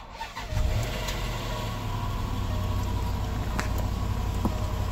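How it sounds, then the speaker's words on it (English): A 2010 Range Rover Sport engine cranks and catches with a brief whir, then settles into a steady, even idle rumble nearby. "The engine sounds great."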